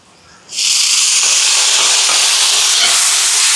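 Tomatoes hit a pan of sautéed onions, cooked in large quantity for a charity meal in Sri Lanka, and a loud, sudden hissing sizzle bursts up and holds steadily to the end.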